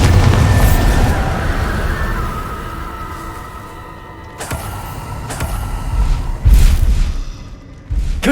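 A Bombarda spell in Hogwarts Legacy goes off in a series of booming explosions. A heavy rumble opens, then several sharp blasts with rolling tails follow, spaced a second or two apart, with no talk.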